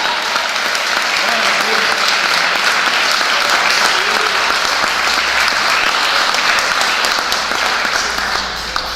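Sustained applause from a church congregation during a Portuguese sermon, a dense steady wash of many hands clapping at full loudness for the whole stretch, tapering only slightly at the very end.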